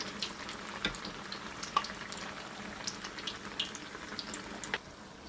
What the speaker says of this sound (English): you need to increase the heat from the hob or stove or gas or whatever you're using to fry your akara, so that the akara can get cooked